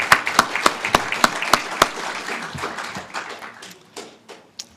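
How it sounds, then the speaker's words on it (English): At a tribute celebration event, a few sharp, evenly spaced claps ring out at first, then loosen into scattered, softer clapping that tapers off near the end. "let's have a round of applause"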